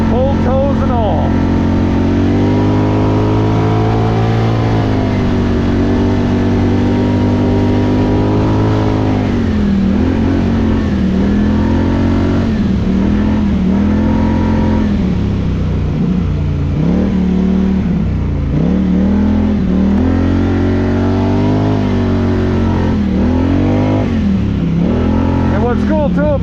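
Polaris Scrambler 1000 ATV engines roar nonstop on a snowmobile trail, loud and close, with revs repeatedly rising and falling as the machines accelerate and ease off.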